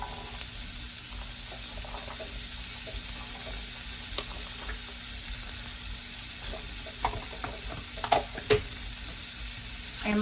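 Red, yellow, white and green onions frying in butter in a pot, giving a steady close sizzle with a few stirring clinks and scrapes, and no voices.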